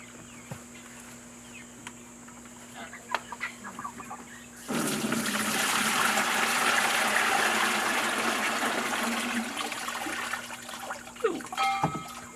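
Watery clay is poured through a colander, and a sudden broad, rushing splash of liquid starts midway, holds steady for several seconds, then tapers into scattered drips and small knocks.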